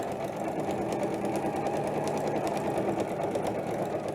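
A sewing machine stitches steadily through layers of quilt binding, a continuous, even mechanical whir with rapid needle pulses at close range and no talking.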